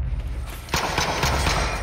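Gunshots from a weapon in The Light Brigade, a dense run of loud, repeated reports starting partway through, over a rumbling game background with no speech.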